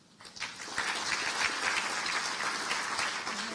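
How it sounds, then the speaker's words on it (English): An audience at an employee welcome day claps for newly introduced university officials. The applause swells quickly from a few hands into a full, sustained round that stays steady to the end. "It's very nice of you to individually applaud each one of them"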